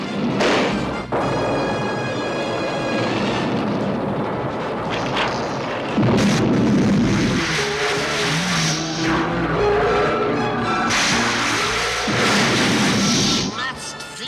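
Magnet grenades going off in a G.I. Joe cartoon battle, loud booms and crashing blasts layered with whooshing and screeching effects, some heavy thuds midway and a burst of noise near the end, with a voice briefly under the din.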